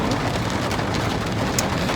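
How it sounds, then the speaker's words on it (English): Heavy rain pours down steadily and densely, heard from inside a car, a loud continuous wash of drops drumming with no voices. "Like, the rain is pouring."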